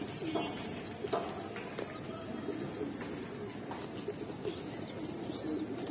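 Giribaz pigeons coo softly in a loft, low repeated murmuring calls over a faint noisy background, with occasional light chirps and no speech.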